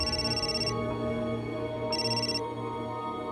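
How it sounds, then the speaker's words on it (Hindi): A telephone rings in two electronic bursts separated by a pause, standing clearly over a steady background hum in an indoor scene from a Hindi crime drama. "ले, तुम्हारे छोटे भाई का फोन है।"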